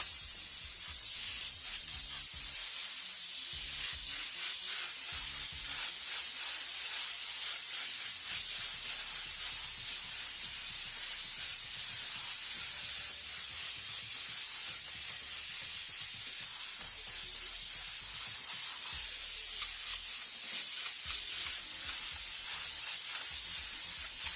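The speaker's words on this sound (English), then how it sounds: "We're going to take our next color, that red oxide color, big spray around the outside edge" An airbrush sprays red oxide paint in a steady, continuous hiss that runs unbroken from start to finish, with no talk over it.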